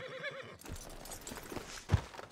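A horse in Red Dead Redemption 2 whinnies and snorts over steady hoof clip-clop, with a sharper burst near the end; the sound has a synthetic, game-like quality.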